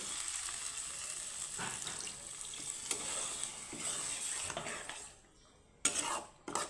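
Water poured into a pan of pointed gourd (potol) curry sets off a sizzle among soft stirring and utensil clinks, the hiss cutting out briefly near the end before a sharp clatter returns.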